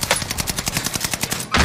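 Rapid automatic gunfire in the video game Call of Duty: Warzone on Rebirth Island, a fast burst of about twenty evenly spaced close shots ending in a louder blast.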